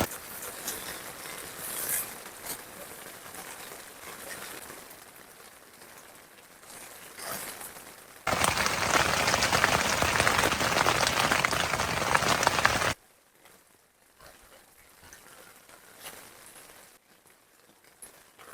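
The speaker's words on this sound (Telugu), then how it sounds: "సో సేమ్ అదే లెవెల్లో అయితే వర్షం పడుతూనే ఉంది" Heavy night rain drums on a brown tent pitched on a hill, a steady hiss that swells into a loud, dense downpour midway before easing back to a softer patter.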